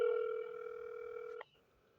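A single steady telephone ringback tone plays while a call to a crisis hotline is being transferred. It is a clear electronic tone that holds for about one and a half seconds and then cuts off abruptly, leaving faint line hiss.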